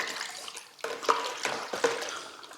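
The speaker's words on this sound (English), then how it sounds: "So here's my bucket of water, and I'm going to put the right amount in. In my case, this is about 4 cups. We're going to give it a good stir." Water sloshes and swirls as it is stirred in a bucket holding about four cups of wallpaper paste mixture, in uneven splashy surges over a couple of seconds, close and fairly quiet with no talk.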